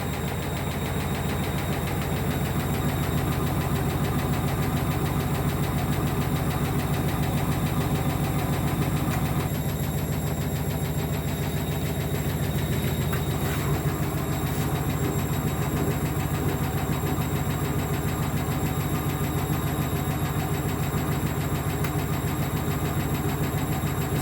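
A 1994 Ocean 900 washing machine spins unevenly, giving a steady low mechanical drone with a rough knocking pulse that shifts partway through, alone with no voices.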